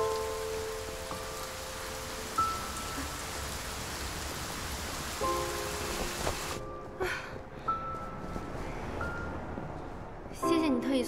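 Heavy rain pours steadily outdoors, a dense hiss running through the whole scene under soft music tones, with the downpour thinning slightly partway through while people talk nearby.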